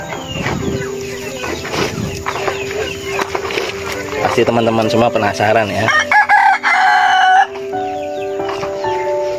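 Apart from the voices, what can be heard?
chickens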